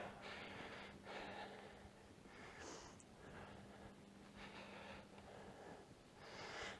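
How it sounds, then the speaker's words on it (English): Heavy, rhythmic breathing of a person working hard during a strength and conditioning workout, loud close gasps and exhalations recurring roughly every second with a faint steady hum underneath. "You can hear my breathing, so we're working quite hard now."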